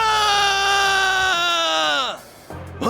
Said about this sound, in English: did you hear that scream just now?